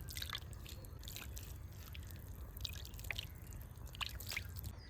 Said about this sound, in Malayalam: ഇനി നമ്മുടെ ഈ പോട്ടി മിക്സ് ഒന്ന് നനച്ച് കൊടുക്കുവാണ്.